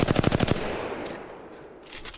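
Rapid burst of about ten R-301 rifle shots in Apex Legends, sharp and evenly spaced, then a lingering echo and a faint clatter afterward; no talking.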